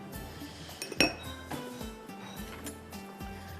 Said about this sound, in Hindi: इसको थोड़ा सा आपने मिक्स कर लेना है इस तरह से